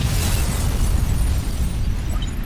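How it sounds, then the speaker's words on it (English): A bombing at the Paris Hotel in the Metal Gear Solid game sounds as a loud, sustained, rumbling explosion roar with heavy low-end, holding steady across the whole stretch. "The Paris Hotel bombing."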